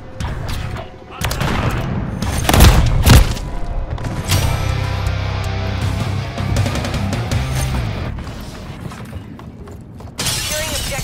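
A frag grenade explosion in a Call of Duty battle, a sharp shattering boom with heavy rumbling debris, set amid steady gunfire and combat noise, with a burst of radio chatter near the end.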